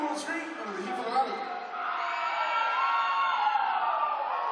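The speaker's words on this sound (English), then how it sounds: "Let's go on this side, screaming on this side." A basketball crowd at a Tauihi game screams and cheers on cue, a wide, sustained roar of many voices swelling in the arena after a brief announcer-style call over the noise.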